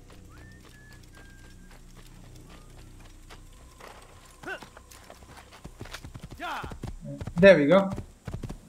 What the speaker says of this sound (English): Now I should probably take a horse.